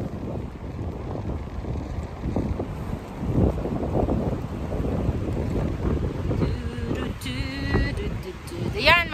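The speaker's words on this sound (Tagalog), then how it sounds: "Lakas ang hangin." Strong wind roars steadily against the microphone during the first snowfall of winter in Karlstad, Sweden, a loud continuous rushing with gusts, with someone talking over it and faint birdlike squeaks near the end.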